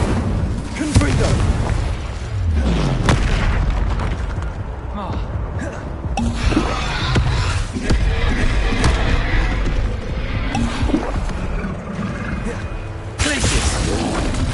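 Spell explosions in a Harry Potter video game: repeated loud booms and bursts with crashing impacts, mixed with shouted incantations throughout.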